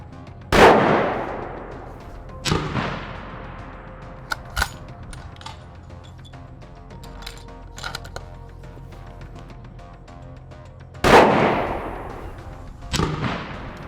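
Gunshots from a custom 300 Win Mag rifle at the range: four loud, close booming reports spaced seconds apart, each with a ringing decay, separated by quieter handling clicks.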